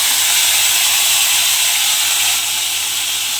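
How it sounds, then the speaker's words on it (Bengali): Spice paste for a tilapia fish curry sizzles loudly in hot oil, a steady close hiss throughout with no talk. "সেই মশলাটা আমি তেলের মধ্যে দিয়ে দিলাম"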